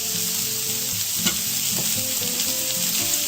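Onions and mushrooms caramelize in a frying pan for a frittata, crackling and sizzling steadily with a few soft stirring knocks, close and continuous.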